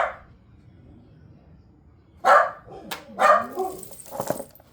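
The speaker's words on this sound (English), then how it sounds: "And dogs do what dogs do." Dog barking indoors, three or four sharp, loud barks arriving in quick bursts after a quiet stretch, close to the listener, with no one talking over them.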